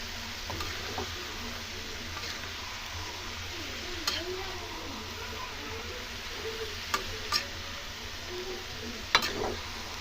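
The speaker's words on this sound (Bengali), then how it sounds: "ভালো করে আবার মিশিয়ে দেবো।" Cabbage and potato curry with peas is stirred in a pan, a soft continuous sizzle under occasional scraping and clinks of the spoon against the metal, with a few sharper ticks.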